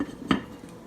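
A metal lid is set on a pot of salmon curry cooking with tomatoes and onions, one short clank close by in a quiet kitchen, with a softer touch just after.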